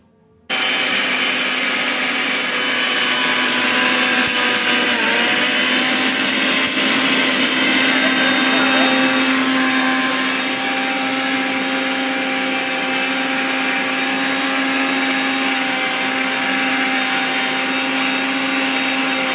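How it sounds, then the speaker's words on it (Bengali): A mixer grinder grinds rice into flour, starting abruptly and running as a loud, steady motor whine with a harsh gritty roar throughout, its pitch shifting slightly as the load changes. "আবার মিক্সার জামে দিয়ে দেবো"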